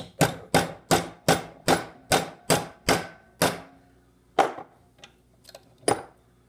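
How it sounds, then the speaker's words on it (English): Hammer striking a metal fork wedged in a door to bend it down, nine rapid evenly spaced blows followed by a few scattered lighter taps, close and sharp with no talk. "Then you want to get your hammer"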